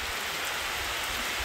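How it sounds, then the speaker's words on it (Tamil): Heavy rain pours steadily over open farm fields, a dense continuous hiss of drops beating down close by with no pauses and no voices. "இன்னைக்கு பாத்தீங்கன்னா மழை பெஞ்சிட்டு இருக்கு"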